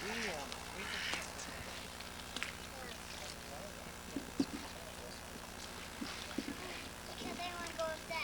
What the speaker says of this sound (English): Ducks are waiting on walls.